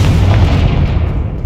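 A Confringo explosive spell in Hogwarts Legacy lands as a loud, deep blast whose rumble rolls on and slowly fades.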